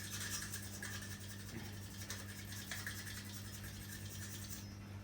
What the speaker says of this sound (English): I'm literally scraping.